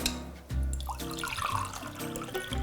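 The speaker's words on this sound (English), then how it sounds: "Pour it into a nice glass." Liquid pours into a glass with a steady trickling, bubbling splash, loud and close, continuing without speech.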